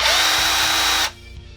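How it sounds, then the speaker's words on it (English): A power drill bores through the bottom of a plastic bottle in one loud, steady burst of high whirring that stops abruptly after about a second, leaving a faint hum. "you want to drill a hole all the way through it, and then use it to catch all those fragments"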